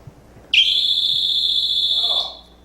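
A loud, steady high-pitched tone blares for nearly two seconds from a student-built robot's distraction alarm, starting abruptly and cutting off, like a shrill whistle.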